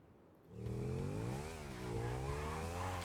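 Motorcycle in GTA V FiveM surging forward on a shift boost, engine note rising sharply after a quiet start, then climbing and dipping through gear changes as it speeds up, loud and close.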